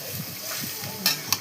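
Mutton frying with a large amount of onion in a pan for a dhaba-style curry, a steady sizzle with soft stirring scrapes and two sharp clinks of the utensil near the end.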